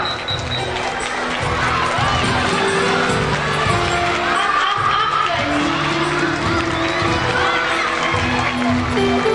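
Large crowd at a school annual sports meet cheering and shouting steadily throughout, a dense roar of voices with children's calls mixed in, loud and continuous, with a low rhythmic thumping of music or drums underneath.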